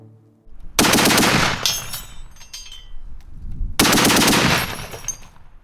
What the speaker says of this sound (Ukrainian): Це стрільба з Браунінга.